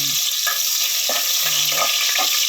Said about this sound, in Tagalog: Ginigisa ko to guys sa luya.